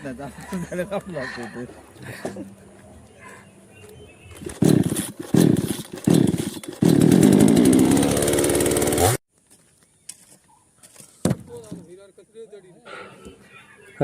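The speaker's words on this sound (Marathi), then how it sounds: "मशीन चालू तो प्रयत्न करतात पण त्यांच्याकडनं काय मशीन चालू होत नाही" Voices talk, then a machine engine that fails to start sputters in short bursts and briefly roars before cutting out abruptly; talk resumes afterward.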